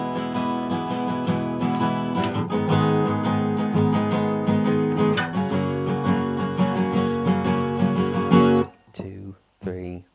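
Guitar strummed through the pre-chorus of a song, a steady rhythmic run of full chords that plays loud and close for several seconds, then breaks off into brief gaps and a couple of short final strums.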